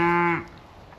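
A cow, from a herd of belted Galloway and Gloucester cattle, gives one loud, close, sustained moo that cuts off sharply, followed by quiet outdoor background.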